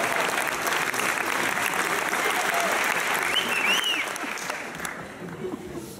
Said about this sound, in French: On applaudit Céline.